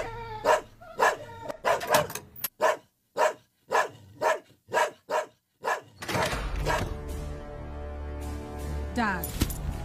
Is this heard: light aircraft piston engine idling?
no